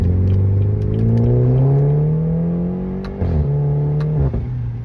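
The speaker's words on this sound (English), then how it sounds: "You can hear the transmission very, very quick on upshift and downshift." A base-model BMW accelerates hard, its engine note climbing smoothly before quick upshifts drop the pitch in sharp steps, close and loud with no talking.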